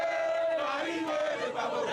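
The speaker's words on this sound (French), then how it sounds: "C'est une foule en liesse qui s'est réunie ce jour pour se réjouir de l'arrivée de l'ex-président Laurent Gbagbo" A jubilant crowd gathered for the arrival of former Ivorian president Laurent Gbagbo cheers and shouts, a continuous roar of many voices with rising and falling yells.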